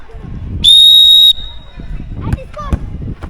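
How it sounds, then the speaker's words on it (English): A referee gives one sharp, loud, steady whistle blast of about half a second at a penalty kick challenge, followed by people talking and light thuds and movement. "Ref has to blow the whistle."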